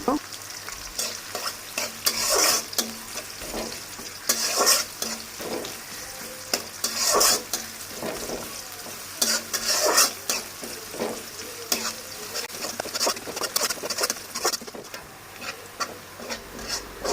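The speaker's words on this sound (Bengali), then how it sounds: "পেঁয়াজটা এখন হালকা করে একটু ভেজে নেব" Onion fries in hot oil in a wok over a village stove, a steady sizzle broken by repeated scraping bursts of stirring, close up with no talking.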